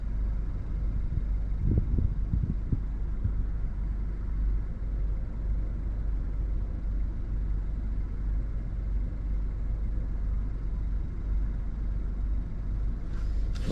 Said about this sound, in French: Ah, le tonnerre. On entend le tonnerre.